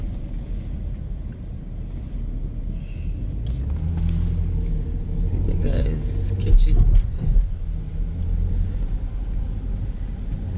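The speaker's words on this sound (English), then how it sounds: "They are out here at the truck with the salt." Heavy diesel rumble of a salt truck idling on a city street, a steady low drone throughout with a brief louder swell midway, while people talk over it nearby.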